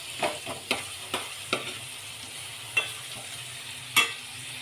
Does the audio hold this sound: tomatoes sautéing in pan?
yes